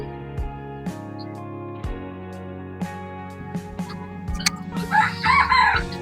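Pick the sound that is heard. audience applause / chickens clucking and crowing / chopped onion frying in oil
chickens clucking and crowing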